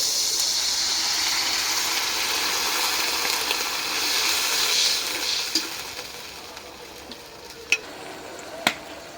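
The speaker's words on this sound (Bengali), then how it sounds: "একটু পানি দিয়ে দিই।" Water poured into a hot pan of cooking sarputi fish brings a loud, broad hiss that slowly dies down into a softer sizzle, followed by a few sharp clinks of utensils.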